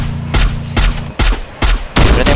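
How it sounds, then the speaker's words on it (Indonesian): Bursts of automatic gunfire from a battle royale video game tournament match, with five sharp, loud volleys arriving in quick succession and brief gaps between them. "tembakan dari seorang Leaks saat ini ke arah plantation depan"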